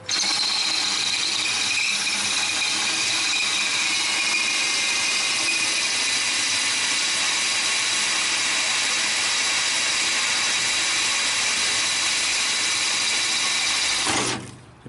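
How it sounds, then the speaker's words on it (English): Power drill boring out a bolt in a T-slot on a 1929 roadster pickup, a steady high-pitched whine held continuously for about fourteen seconds before cutting off abruptly. "and then start drilling."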